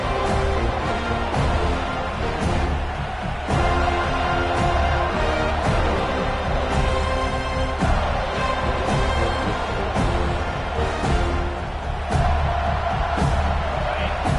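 A large stadium crowd roars and cheers continuously at a football game during a big moment, loud and sustained with swelling surges and occasional shouts.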